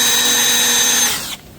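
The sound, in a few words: power drill drilling into wood jig corner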